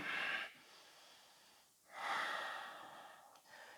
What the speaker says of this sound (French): on revient à cette respiration de plus en plus intense, profonde et lente